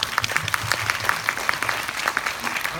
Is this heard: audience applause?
yes